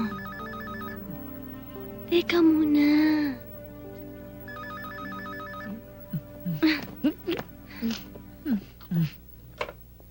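A telephone rings in repeated electronic bursts, then a person speaks briefly, followed by a series of short whimpering or crying vocal sounds.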